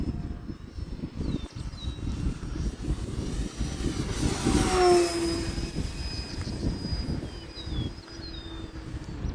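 An Avios Zazzy RC airplane flies overhead in wind, its electric motor whining steadily and swelling as the throttle comes up mid-pass before easing off, with gusty wind rumble throughout.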